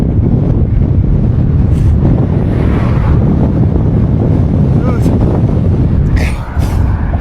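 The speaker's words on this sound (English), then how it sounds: "This wind. Of course, I gotta go in this direction." Strong wind roars steadily into a microphone as a cyclist rides slowly in low gear on a flat road along China's G314 highway in Xinjiang, a dense, loud buffeting that fills the whole clip.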